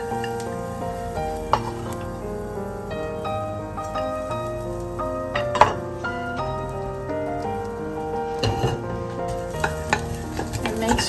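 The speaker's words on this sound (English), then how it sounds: "So now I'm gonna put the garlic in the pot." Garlic frying in a pot while a cheese sauce is made, a steady crackling sizzle with frequent stirring knocks and spoon scrapes close by, with no voice.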